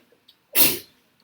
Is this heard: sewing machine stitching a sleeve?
no